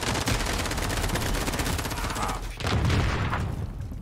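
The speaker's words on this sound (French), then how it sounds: "Attention, vous tirez." Sustained automatic gunfire in Call of Duty: Warzone hammers loud and close in rapid bursts, with a brief dip before another heavy volley.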